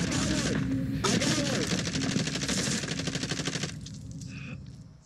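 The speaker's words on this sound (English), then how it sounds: "Oh yeah, they're shooting." Sustained rapid automatic gunfire from the video game Call of Duty Warzone, a loud steady stream of shots for about four seconds that then thins and fades, with a voice speaking over it.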